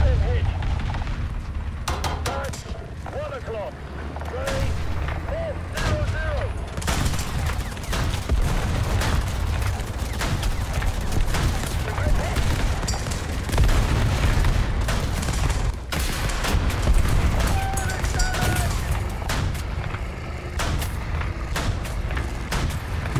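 Tank cannon fire and battle noise from War Thunder fill a dense, steady low rumble with scattered sharp bangs throughout, while a player talks over it.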